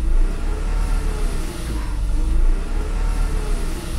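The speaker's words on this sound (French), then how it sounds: "Déjà un petit coup d'accélérateur." An old car's engine idles low, then revs up briefly as the accelerator is blipped, a close, steady mechanical drone that rises and falls with no talking.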